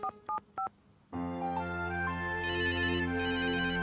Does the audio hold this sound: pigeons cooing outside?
no